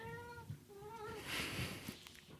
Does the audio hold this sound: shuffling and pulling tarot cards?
no